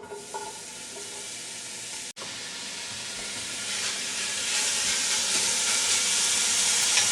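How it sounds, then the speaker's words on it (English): Chopped smoked bacon sizzles in a hot pot for traditional stuffed cabbage, a dense steady frying hiss that grows gradually louder, with one brief stirring knock early on. "Let's put the bacon in a hot pot."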